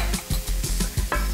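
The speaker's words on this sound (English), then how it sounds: "Now 2 tablespoons of red chili powder going in." Red chili powder sizzling in hot oil with fried onions, coconut and garlic, stirred in a pan: rhythmic scraping strokes about every fifth of a second over a close, crackling fry.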